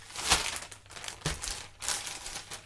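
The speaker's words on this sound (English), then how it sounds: "Lots of rustling." Plastic mailing bags rustle and crinkle close by in a few bursts, with quieter handling between them and no talking.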